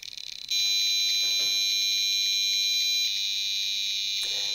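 A steady, piercing electronic tone from an electromagnetic field meter drones continuously for several seconds, loud and unwavering, after a brief crackling start.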